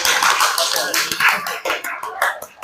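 A classroom group claps hands in an uneven, spirited burst, with claps fairly close and trailing off toward the end as voices mingle.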